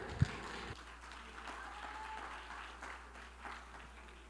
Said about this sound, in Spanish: Un aplauso para Rodrigo, por favor.